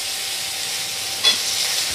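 Potatoes frying with cumin seeds in a pan of hot oil, giving a soft steady sizzle and one brief louder burst of hiss and stirring midway through.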